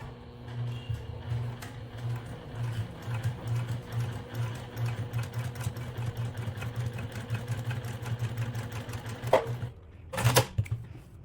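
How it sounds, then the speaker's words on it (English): A sewing machine runs in a fast, steady rhythmic stitching clatter while sewing a bookmark, then stops near the end with a couple of sharp clicks. "So let's head over to the sewing machine. So now I'm going to start to sew."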